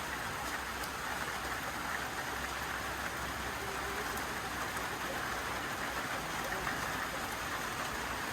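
Rain falls steadily on a Black Sea village in Turkey, a constant even patter and hiss with no break and no voices.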